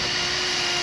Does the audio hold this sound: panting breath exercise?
no